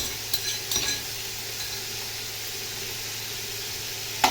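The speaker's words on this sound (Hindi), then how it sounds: "अभी मैं इसके ऊपर लहसुन अदरक का पेस्ट वो भी ऐड कर दूंगी" Garlic ginger paste sizzling in a pot for chicken pulao, a soft steady sizzle with a few stirring scrapes and clinks of a spoon, close but fairly quiet.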